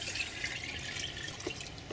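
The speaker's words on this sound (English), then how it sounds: "I want to give them some fertilizer, so I'm pouring it on the bed straight" Liquid fertilizer poured straight onto an outdoor plant bed, a steady splashing trickle with occasional drips, continuous and fairly close.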